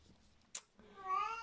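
A pet cat gives a single clear meow close by, rising and then fading, preceded by a short sharp click.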